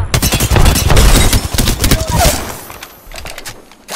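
Loud, dense bursts of video game gunfire rattle in rapid succession for most of the moment, then thin out and fade toward the end, with no speech over them.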